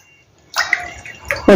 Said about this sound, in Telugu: ఈ గ్లాస్తో ఈ గ్లాసున్నర నీళ్ళు పోస్తా